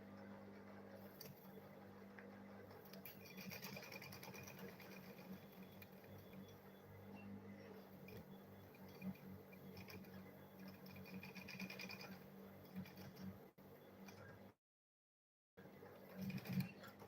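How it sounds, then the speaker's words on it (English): A sewing machine stitches a school bag in a continuous, quiet, rapid mechanical whirr with light ticking, briefly cutting out near the end before resuming. "Then I'll sew this one also."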